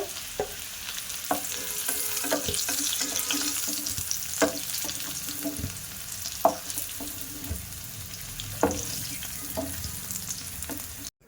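Ginger paste and green chili frying in oil left over from frying potatoes, a continuous bright sizzle with occasional sharp spoon knocks and stirring scrapes, close by and free of speech.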